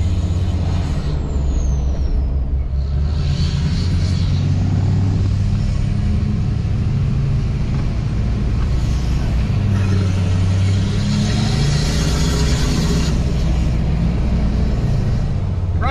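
Lifted Duramax pickup truck on 26-inch wheels towing a dump trailer, a loud continuous engine drone and road roar from inside the cab, steady for the whole stretch.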